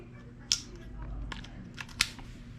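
Long-handled pruning shears cutting through wire mesh used to bind floor-heating pipes, from a plumber's leak-repair tool kit: two sharp snips about a second and a half apart over a low hum, with some handling noise between them.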